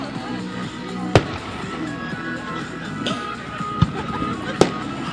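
Canada Day fireworks in 2016 bursting outdoors: three sharp, loud bangs spaced apart over a steady background of crowd noise, with people chatting throughout.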